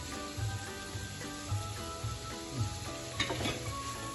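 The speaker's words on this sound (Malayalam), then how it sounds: "നന്നായി ഇളക്കി" Carrot stir-fry being stirred in a pan, a steady sizzle with soft scraping strokes repeating about once a second, close and moderately loud.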